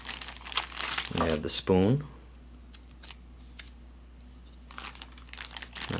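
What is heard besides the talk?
crinkling of a Ziploc bag from a Lithuanian combat ration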